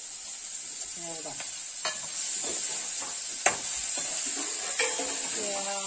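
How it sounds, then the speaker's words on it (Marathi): Onions frying in hot oil for a fish (murhe) recipe, a steady bright sizzle running throughout with occasional spoon scrapes and stirring taps against the pan, close and fairly loud. "तेलामध्ये फ्राय करून घ्यायचा कांदा."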